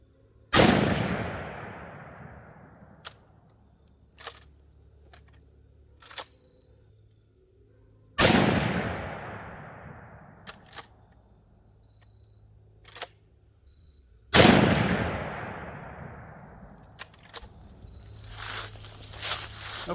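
Three loud rifle shots from a Marlin 336 lever-action in 35 Remington firing 200-grain loads during chronograph testing, evenly spaced several seconds apart, each a sharp close crack with a long decaying echo, with faint clicks between.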